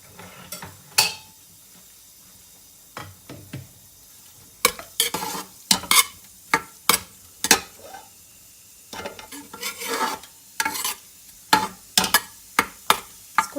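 Onions frying in a little oil in a pan for chana dal, with a steady soft sizzle broken by repeated sharp scrapes and clinks of a spoon stirring against the metal, close and without talk.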